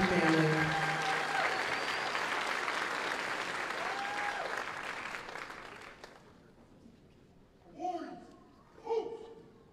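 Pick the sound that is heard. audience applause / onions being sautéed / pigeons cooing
audience applause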